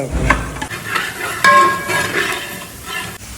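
Onions being stirred and sautéed in a pan for puli inji, a wedding-style Kerala tamarind-ginger relish, with steady sizzling and scraping and a few utensil clinks against the pan; no talking.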